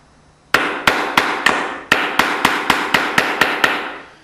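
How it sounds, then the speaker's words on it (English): Hammer tapping a metal wedge into a picture frame corner: about a dozen sharp, close, evenly spaced knocks with short ringing decay, alone with no talking. "So, I'm gonna put that on top of the wedge here. And tap it till it's all the way, that wedge goes all the way down into its hole."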